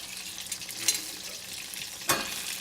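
Minced garlic and herbs sizzling in melted butter in a pan on high heat for filet mignon, a steady soft crackling hiss with a couple of sharper clinks or stirring scrapes.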